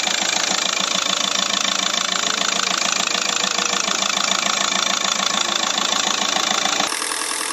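A Hyundai Verna CRDI diesel engine idles steadily after replacement, with a continuous close clattering rumble and even rhythmic diesel knock throughout, cutting to a slightly different tone near the end, no voices.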